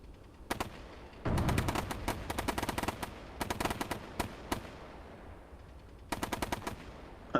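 Players shooting in the video game Bellum, with bursts of rapid automatic gunfire separated by short pauses and a few single shots, crisp and moderately distant.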